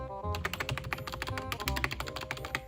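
A Razer mechanical keyboard is typed on rapidly, a dense stream of sharp clicky keystrokes in uneven bursts, close and crisp with no talking over it.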